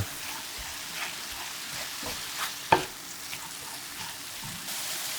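Green garlic and anchovies stir-fried and tossed together in a pan, giving a low continuous crackling sizzle with light stirring scrapes and one sharp utensil knock, close and fairly quiet, with no speech.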